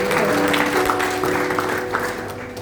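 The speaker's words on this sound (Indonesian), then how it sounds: "Kita beri tepuk tangan untuk Tuhan" Steady applause fills a church worship service, a continuous mass of clapping from the congregation lasting a few seconds with a low hum underneath.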